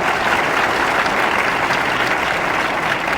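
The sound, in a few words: applause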